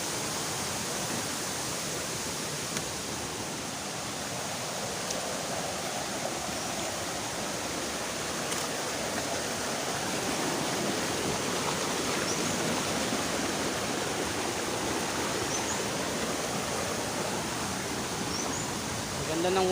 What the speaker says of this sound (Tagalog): Ganda ng waterfalls na to.